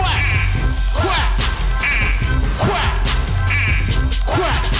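Loud rhythmic quacking, with repeated duck calls over a pounding music beat, likely people imitating a duck rather than a real bird.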